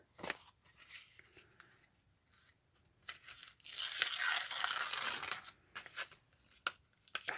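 Brown paper bag paper torn by hand in several short rips and crinkles, close and moderately loud, with one longer tear in the middle and quiet pauses between.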